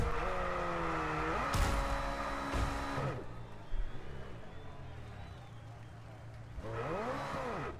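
An F1 car in F1 22 drifts on the Azerbaijan circuit, its engine whining loudly with pitch shifts and brief tyre squeals, then falling quieter before revving up again.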